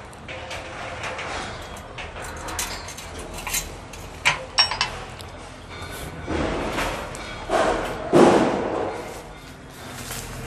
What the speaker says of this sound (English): The construction work is going on.